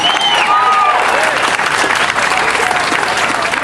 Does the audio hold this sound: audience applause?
yes